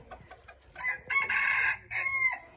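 A jungle fowl rooster crows twice, loud and close, each call a strained, harmonic cock-a-doodle with a short gap between, over faint background noise.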